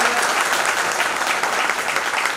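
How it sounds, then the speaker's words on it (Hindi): An audience claps steadily and loudly throughout, a dense continuous wash of hands with no pauses. "ताली बजा सकते हैं।"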